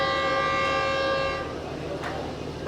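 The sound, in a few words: train with GU40 locomotive arriving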